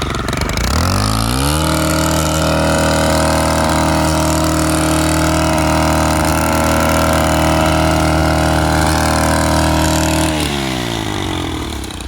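A Stihl string trimmer fitted with a metal blade, used for cutting down large weeds on an outdoor plot, spins up from idle into a loud, steady high-rpm drone. It holds that pitch for several seconds, then starts winding down near the end.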